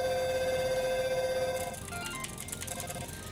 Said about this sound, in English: So that generates a phone call every frame.